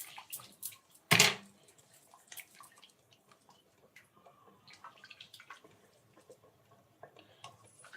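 Water is poured into curry masala for a sprouted-gram sambar. A sharp splashing burst comes early, followed by faint drips and light clinks of kitchen activity.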